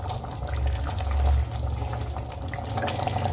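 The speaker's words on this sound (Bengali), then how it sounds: "এখানে আমার মাছের গ্রেভি দেখো খুব সুন্দর করে ফুটে গেছে" Lailontika fish tel jhal gravy bubbling at a steady boil in a pan, a continuous close, even simmering hiss with a low rumbling undertone and no talk.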